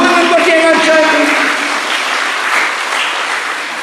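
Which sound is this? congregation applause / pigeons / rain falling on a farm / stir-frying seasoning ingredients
congregation applause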